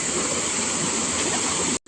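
Loud, steady rush of the cold Jatashankar river near Junagadh, close by and continuous, cutting off abruptly at the end.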